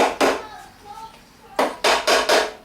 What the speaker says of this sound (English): I just use this hammer so I don't